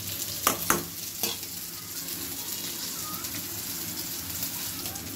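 Vegetables stir-fry with spices in a pan, giving a loud, steady sizzle, with a few clattering spatula strokes at the start and then continuous hissing.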